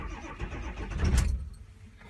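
A car engine cold start on a vehicle that had coolant in its cylinders: a short burst of cranking rises into the engine catching and firing, with a loud surge near the middle before the sound drops away to a quieter tail.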